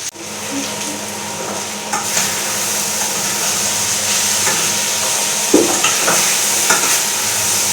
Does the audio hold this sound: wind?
no